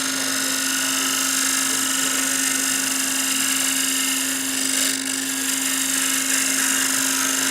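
Bowl gouge cutting a wooden bowl on a lathe, a steady continuous broadband whir and scrape with a constant motor hum underneath, close and fairly loud throughout.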